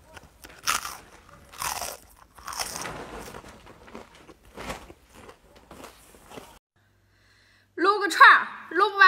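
Fried food and noodles with sliced pork crunch loudly in repeated close-up bites, a steady rhythm of crisp chewing before a short pause and a voice speaking at the end.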